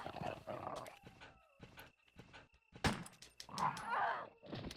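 A dog in the Resident Evil: Director's Cut video game gives several short, sharp barks and growls in bursts separated by brief gaps, close and fairly loud.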